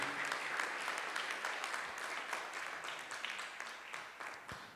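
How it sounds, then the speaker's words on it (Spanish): A church congregation applauds together, a dense, moderately distant wash of clapping that rises and gradually tapers off over several seconds. "Dar un aplauso al Señor."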